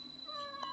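A cat on a Filipino farm lets out a single drawn-out, tonal meow, close and clear at feeding time.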